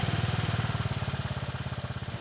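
A heavy engine drives a three-ton spinning metal wheel, throbbing in a steady, rapid low pulse close by, loud and even with no talk over it.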